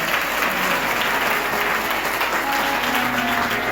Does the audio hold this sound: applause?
yes